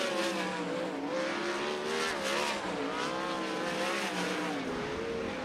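Sprint cars running hot laps at Fremont Speedway, several engines roaring together at full throttle with wavering pitch as they circle the dirt oval, loud and continuous.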